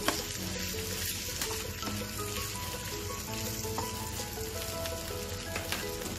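South Indian aloo masala for dosa fries in a pan with salt while being stirred, giving a steady close sizzle broken by scraping stirs. No one speaks.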